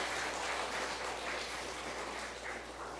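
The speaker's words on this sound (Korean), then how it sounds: "우리 다시 한번 좀 박수로 감사를 표현해 주실까요?" A church seminar audience claps steadily for a few seconds after a song of praise, a dense, even patter of many hands with no voices over it.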